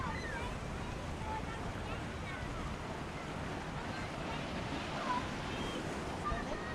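Ocean surf at Wategos-area beach in Byron Bay, a steady wash of waves heard from nearby with wind buffeting the microphone throughout.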